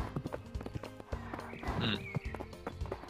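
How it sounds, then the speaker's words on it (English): A horse walks in the Horse Simulator VR video game, with rhythmic clip-clopping hoofbeats at a steady walking pace, close and moderately loud, mixed with other game sounds. "my horse is walking super good"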